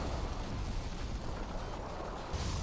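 An ion cannon blast rumbles through a free-for-all match of Command & Conquer 3: Kane's Wrath on the Tundra Triangle map, a dense, steady low roar with a brighter surge near the end, no voices.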